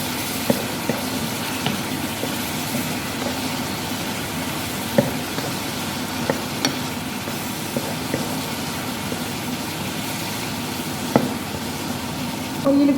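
Cuttlefish frying in hot oil in a home kitchen, a steady dense sizzle and crackle with occasional small pops, close and continuous without talk.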